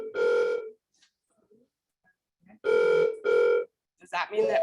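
A telephone rings in bursts during a medical lecture symposium: a long tonal ring, a pause, then two shorter rings close together, fairly loud and near, followed by a voice speaking.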